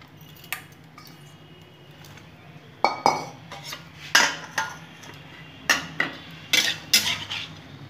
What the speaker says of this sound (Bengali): ফোড়নটা আমার একটু সুগন্ধ বেরিয়ে গেছে, আমি শসাটা দিয়ে দিলাম।